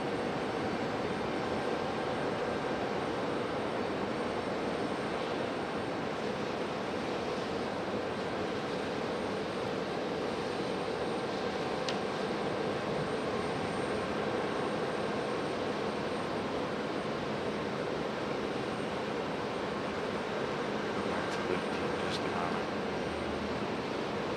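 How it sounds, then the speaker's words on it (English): A JetBlue jet in mint livery on final approach at Raleigh-Durham gives a steady, moderately distant engine hum and rush that stays even throughout. "Next, I believe, is our JetBlue. It's on final."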